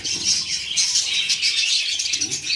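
Budgerigar chicks and parakeets chirp busily in an aviary, a dense overlapping mass of high, thin tweets and chatter from many birds, fairly close and continuous with no voices.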